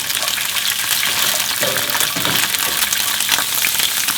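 Garlic scapes stir-frying in a pan with a steady, dense sizzle that runs unbroken throughout, close and fairly loud, with faint scraping as they are moved about.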